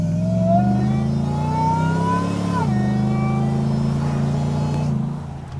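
Nissan Patrol Y62 fitted with a Harrop supercharger, its Safari snorkel head turned backwards, revs up and then drops back with a steady engine drone and a rising supercharger whine, close and continuous.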